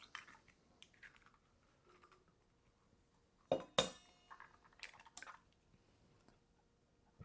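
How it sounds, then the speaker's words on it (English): Two eggs are cracked into a bowl in a quiet kitchen: sparse light taps and a couple of sharper shell cracks, followed by soft wet clinks and small splashes, close and clear with no talking. "I'm going to crack 2 eggs into my"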